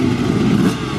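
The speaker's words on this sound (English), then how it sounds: "The classic roar of the 2-stroke engine." A two-stroke motocross motorcycle engine roars steadily and loudly at close range, a dense continuous drone with slight wavering in pitch, from old-school Super Evo and Twinshock era racing bikes.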